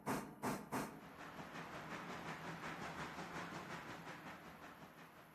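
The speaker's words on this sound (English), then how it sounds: "I really hope they change the sounds of the engine sooner than later." Locomotive engine in the Railroader video game, a few sharp puffs at the start giving way to steady rhythmic chuffing and hiss, fairly faint, with no speech.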